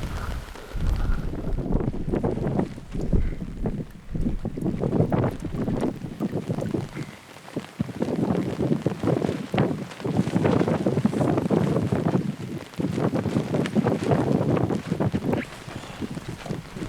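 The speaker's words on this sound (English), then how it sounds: "she is fucking blowing a gale in this tent" Gale-force wind on a Tasmanian mountainside roars and buffets a hiking tent in loud, continuous gusts with heavy flapping and rumbling throughout, no speech.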